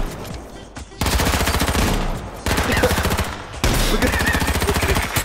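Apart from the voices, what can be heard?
gunfire from the video game H1Z1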